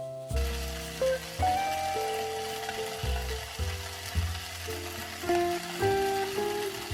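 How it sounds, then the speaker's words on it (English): Beef frying in cooking oil in a pan, a close, bright sizzle and crackle that surges and eases in waves, with faint tonal hums under it and no voices. "Prepare the pan and add some cooking oil to it. Put the beef into the pan."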